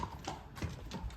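Horse hooves clip-clop in a steady run of close, distinct strikes, several beats in just over a second, against a light background bustle.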